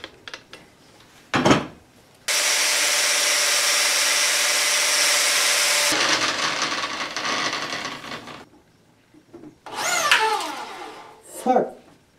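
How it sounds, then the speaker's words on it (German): Angle grinder fitted with a flap disc grinding down a dagger made from scrap steel, a loud steady whine holding for about four seconds, then trailing into scraping and short bursts. "Dafür nehmen wir die Flex mit so einer Bubble-Scheibe."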